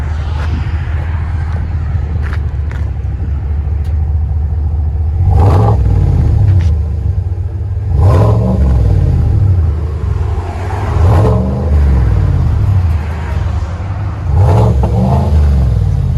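A white 1984 GMC Sierra truck with a 6.2L V8 and aftermarket exhaust revs several times, each loud blip swelling and falling back to a deep rumbling idle, heard close up with no talking.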